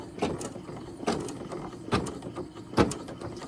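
An embroidery machine stitches a placement outline for a rabbit appliqué body, producing soft, repeated mechanical clunks at roughly one-second intervals over a faint whirring hum, close by and unaccompanied by speech.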